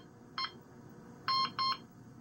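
Access code keyed into an Interlogix Concord Express alarm system touchpad: three short electronic beep tones, one single then two in quick succession, clear and close against a quiet background.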